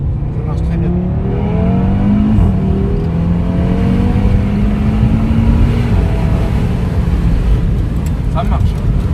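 An Audi RS3 with quattro circles a roundabout on damp pavement, its engine a continuous close rumble whose pitch climbs and falls gently. Someone speaks briefly over it.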